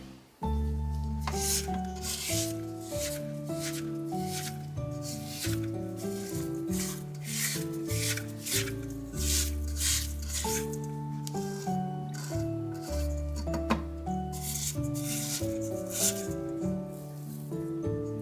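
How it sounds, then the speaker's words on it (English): A spatula scrapes around the mixing bowl of creamed butter and sugar for sugar cookie dough, giving a steady rubbing, scuffing sound that runs close and continuous throughout with no talking. "Just going to scrape that bowl down"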